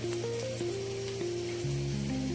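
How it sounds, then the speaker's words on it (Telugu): Chopped onion fries in a pan with prawns for a Telugu prawn fry, giving a steady, soft sizzle that runs evenly throughout, with faint tonal hums underneath. "ఉల్లిపాయ కొంచెం బాగా ఎర్రగా వేగాలండి"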